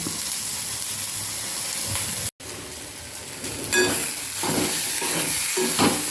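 Onion roasts in a pan for masvadi rassa, giving a steady hissing sizzle with a few scraping stirs close by and no one talking.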